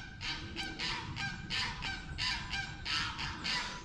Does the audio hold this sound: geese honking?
yes